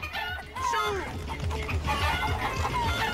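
Chickens cluck and squawk in the Crash Twinsanity PS2 video game, a steady busy run of fowl calls with other game noise underneath.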